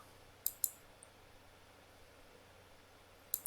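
Computer mouse clicks: two quick near clicks close together, then a short quiet stretch of faint room hiss, and another pair of clicks at the end.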